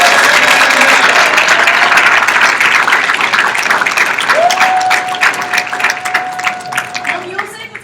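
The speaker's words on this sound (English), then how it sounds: "give her a round of applause" An audience fills the room with loud, sustained applause for a woman taking the stage, the clapping fading over the final seconds as a tone and then a voice come in.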